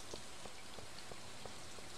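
Rain falling in the video game Stardew Valley, a constant close hiss of drops with faint regular ticks, playing alone without speech.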